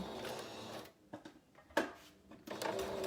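A sewing machine runs in short bursts while stitching a cloth face mask, a faint whirring broken by pauses and a sharp click, fairly close and quiet.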